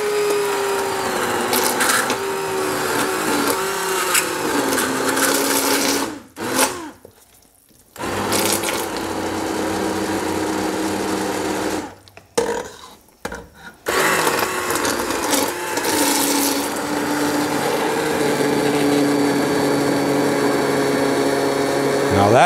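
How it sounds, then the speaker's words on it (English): An immersion blender purees cooked onions for German rouladen, whirring loudly for long stretches, cutting out briefly twice and starting again, with a voice talking over parts of it. "with an immersion blender, we're gonna blend up those onions and get everything incorporated"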